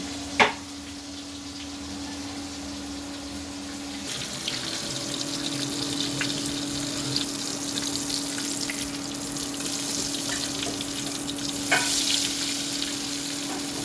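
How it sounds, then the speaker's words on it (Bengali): Basa fish fillets frying in a pan on a lowered flame, a steady close sizzle running throughout with occasional clinks and stirring sounds, no talking. "সবগুলো মাছ একে একে ভেজে নিচ্ছি চুলার আঁচটা কমিয়ে নিয়ে"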